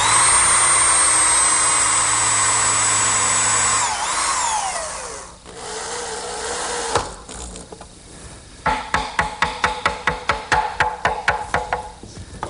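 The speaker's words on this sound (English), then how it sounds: "this strip of maple will act as a draw support and guide, and I'll just attach that with some screws" A power drill drives screws into a maple strip used as a drawer support in a woodworking shop: a sustained loud motor whine that winds down, followed by a run of quick rhythmic ratcheting pulses close by.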